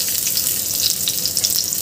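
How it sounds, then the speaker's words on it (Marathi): Onions fry in hot oil on a tawa with a loud, dense, steady sizzle and fine crackling pops throughout. "आता आपल्याला मी इथे तेल टाकलं आहे तव्यावर आणि हे कांदे आपल्याला भाजून घ्यायचे आहे"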